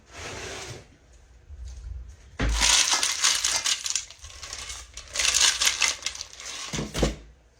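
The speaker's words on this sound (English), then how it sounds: "I put some ice on it." Ice cubes clatter and crunch as they are dropped onto blanched peas, a few loud rattling pours close by with short gaps between them.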